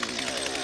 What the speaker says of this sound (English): if you want to fire up the chainsaw